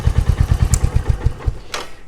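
A Royal Enfield Hunter 350 fitted with a Coffman's shorty slip-on exhaust revs hard and close, a loud rapid pulsing thump from the engine over about two seconds, with a brief sharp mechanical crackle near the end.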